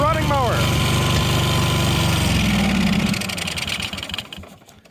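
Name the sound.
1998 Yazoo YTKC22 three-wheel mower engine running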